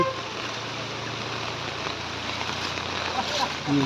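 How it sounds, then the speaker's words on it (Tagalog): Heavy rain during a typhoon with flooding pours in a steady, loud broadband wash, continuous and close, with rushing water mixed in and no clear voices over it. "Ang lakas na ng ulan."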